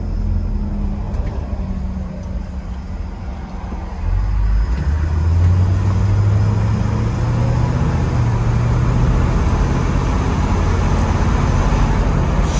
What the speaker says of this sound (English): We'll just get it up around the corner, let it go, shift through the gears one time